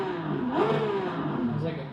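A Porsche 911 engine in the Assetto Corsa EVO racing game revs up, the pitch rising and falling in a smooth, sustained drone. Someone talks over it.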